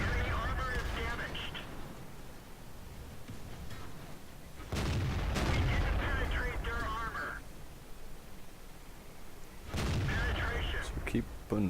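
An AT-7 tank destroyer fires its gun in a tank video game, with several heavy booming shots and rumbling blasts spread through the clip under a low voice commentating.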